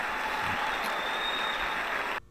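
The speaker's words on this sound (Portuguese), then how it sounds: "Eu queria uma salva de palmas para o pessoal do Fundo Social de São Paulo." Applause from an audience at a São Paulo social-fund job event fills the clip as a steady, moderately distant wash of clapping, then cuts off sharply at the end.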